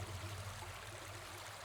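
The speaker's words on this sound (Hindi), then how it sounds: "पानी की आवाज लगती है।" Water flowing in a nearby river runs as a faint, steady rushing hiss, continuous and even with no other sounds over it.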